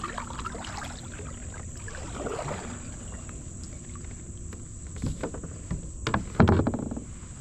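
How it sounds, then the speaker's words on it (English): A kayak paddle dips and strokes through calm water while fishing limb lines on a river, soft splashes and gurgles near and fairly quiet, growing into louder, irregular sloshing and knocks toward the end. "I think I'm gonna paddle that way"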